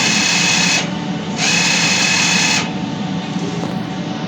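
A two-head DTF printer runs a print head nozzle test after wiper cleaning, giving a steady mechanical whir in two bursts with a brief drop between, then continuing at a lower hum, close and fairly loud with no talking.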